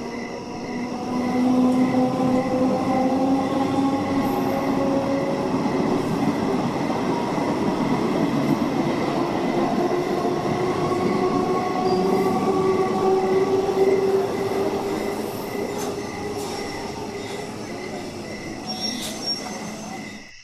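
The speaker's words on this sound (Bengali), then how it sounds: "ট্রেন আসতেই আমি ট্রেনে উঠে পড়লাম।" A local train pulls into a station at night, a sustained rumble with squealing wheels and metallic tones holding steady before slowly easing off, with no voices.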